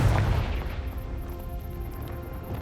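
A Confringo blasting curse detonating in Hogwarts Legacy: a sharp, heavy boom right at the start that decays into a rumbling tail, followed by a string of faint, evenly spaced high ticks.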